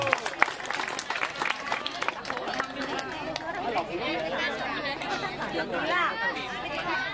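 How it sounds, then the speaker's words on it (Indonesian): A crowd claps for a first-place village competition winner, brief scattered clapping early giving way to loud overlapping chatter and murmuring voices. "Silakan tepuk tangan"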